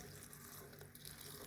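Water pours from a container into a blender jar with the crab xacuti paste ingredients, a short, steady splashing trickle, quiet and close.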